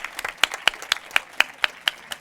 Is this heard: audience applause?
yes